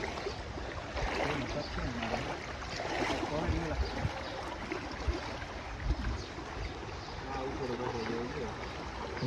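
Rainwater rushes along a stream during a heavy downpour, a steady, fairly close broadband wash that holds its level throughout, with faint voices mixed in.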